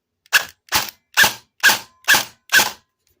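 An LT KR-103 airsoft rifle, being upgraded and run on an 11.1 V battery, fires on full auto. Six sharp, close mechanical pops come at an even, steady pace, then silence.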